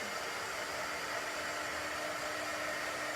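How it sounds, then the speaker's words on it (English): Dryer blowing over chalk paste on a wooden round decor piece, a loud, steady close whooshing hum that runs throughout without pause. "I'm going to dry this real quick"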